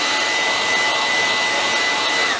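A heat gun blows hot air onto the LCD screen of a Samsung Galaxy Tab S5e 10.5-inch tablet during a screen replacement, making a steady, loud, even whoosh that holds for the whole stretch with no talking.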